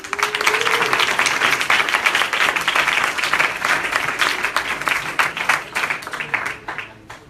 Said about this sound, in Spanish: Lo recibimos también con un fuerte aplauso.